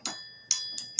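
A bell rings on a livestream, struck four times in quick, uneven succession, each hit a bright, ringing metallic tone that fades quickly, fairly faint and with no other sound behind it.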